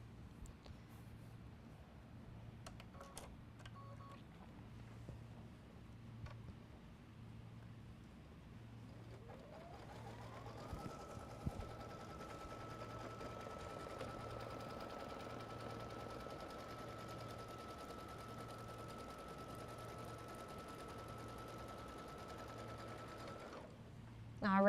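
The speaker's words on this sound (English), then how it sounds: "I'm going to run my next machine step, which will be the tacking stitch" An embroidery machine sewing a tacking stitch on a folded fabric border block spins up partway through and holds a steady, close motor whine until it stops near the end, while a pigeon coos rhythmically in the background throughout.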